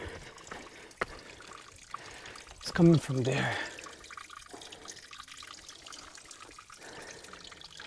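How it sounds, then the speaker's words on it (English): Water pours and splashes in a short burst amid quiet outdoor noise on a mountain hiking trail, with a person talking nearby. "As you can see, it's running water"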